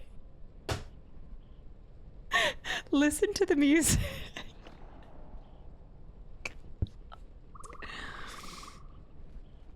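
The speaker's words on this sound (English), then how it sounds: "now it's just birds chirping" Birds chirp in a game world of Knights of the Old Republic 2, brief scattered calls and a sustained trill after music fades, with someone talking over much of it.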